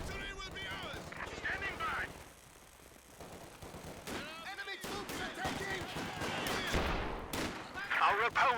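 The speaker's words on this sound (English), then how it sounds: "Double mortars doing some good work." Double mortars firing in a Company of Heroes 2 2v2 match, repeated booming shots and blasts scattered through dense battle noise, heard under a commentator's voice.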